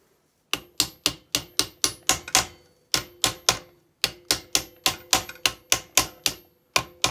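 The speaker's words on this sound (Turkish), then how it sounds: "etrafına hafiften tıklayın ki çemberin bütün etrafı gömleğe tamca otursun" Light tapping to seat a piston ring compressor evenly against the cylinder of a Fiat 126 engine: around twenty crisp, close taps in steady groups with short pauses between them, and no talking.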